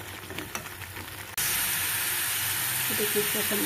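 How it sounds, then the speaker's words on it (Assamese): Chickpea masala frying in a pan. A quiet stir is followed by an abrupt jump to a loud, steady sizzle and hiss that carries on to the end, with faint clinks near the finish. "এতিয়া ভাজিম মই কেঁচা গোন্ধ নোযোৱালৈকে ভাজিম"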